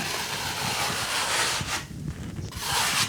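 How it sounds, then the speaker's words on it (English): A knife scrapes down high ridges of wet joint compound on a repaired ceiling hole, a steady close rasping drag that pauses briefly before resuming. "So we just scrape down the really high ridges."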